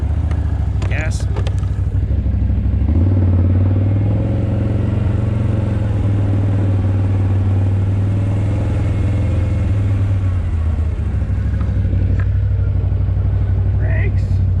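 An ATV engine revs and accelerates on a rough off-grid trail while hauling a log hauler, a loud steady close-up drone that rises and holds before easing off near the end, with brief speech over it.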